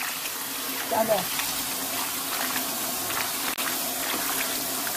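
Tap water runs steadily while bitter lettuce kimchi greens are rinsed in a sink, a continuous gush under a brief spoken word.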